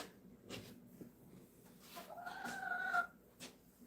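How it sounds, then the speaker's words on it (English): Chickens cluck softly in the distance, a few short calls rising into a brief louder squawk, faint and unaccompanied by talk. "The chickens are cracking you up."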